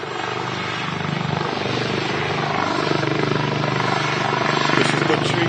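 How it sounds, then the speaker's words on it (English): A helicopter waits at Manchester Airport before departing, its rotor and engine making a loud, steady whirring drone that holds evenly throughout. "So this heli will be waiting for that before she departs."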